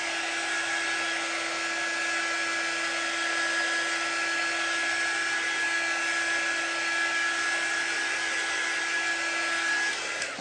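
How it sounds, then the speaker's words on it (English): A hot-air blow dryer drying chalk paste runs steadily and loudly for the whole stretch, a continuous whooshing roar with a thin high whine and no talking. "you probably want to do the hot air, like a blow dryer"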